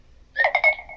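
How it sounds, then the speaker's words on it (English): A phone's low battery alert, a short bright electronic chime of three quick pulsed tones with a brief fading tail, heard clearly and alone over near silence. "that's my phone dying"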